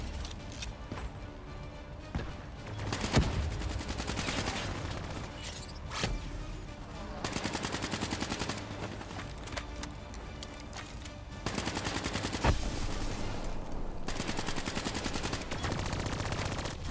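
Steady bursts of automatic gunfire rattle on and off throughout, loud and close, with sharper single shots punching through between volleys, in the Call of Duty: Black Ops 3 campaign on PS4, with turrets firing.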